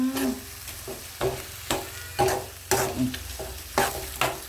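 Frog and chili being stir-fried in a pan, with sharp sizzling bursts as the spatula scrapes and tosses the pieces every second or so, close and loud against a steady background hiss.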